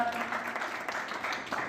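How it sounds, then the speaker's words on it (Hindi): A hall audience at a school results and student honours ceremony applauds, a brief, fairly steady wash of clapping heard at moderate distance. "आप जोरदार तालियों से इनका अभिनंदन करें"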